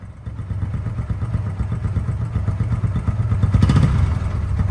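A 2023 motorcycle in showroom condition idles nearby with a steady, smooth, even thrum, briefly rising slightly toward the end.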